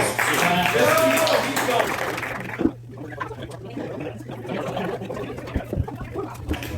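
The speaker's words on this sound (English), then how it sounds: "Keep clapping for Joe." A comedy club audience claps for a stand-up comedian, a steady wash of applause that fades partway through while someone talks over it on a microphone.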